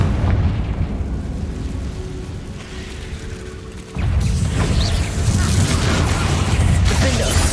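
Confringo fire spell blasting in Hogwarts Legacy on PC, a dense rumbling explosion roar that surges loudly midway and sustains with crackling debris, loud and continuous.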